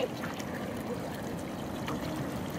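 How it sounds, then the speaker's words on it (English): Sea water washes over rocks in a beach tide pool where starfish sit. The flow makes a steady close trickling and rushing sound with faint splashes, and nobody speaks. "That's the water flowing over top of it."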